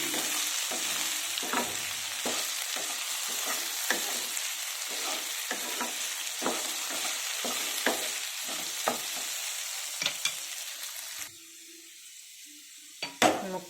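Potato pieces frying in a pan for aloo fry, a steady sizzle under repeated scrapes and clinks of a stirring utensil, the sizzle dropping away near the end before a final clatter.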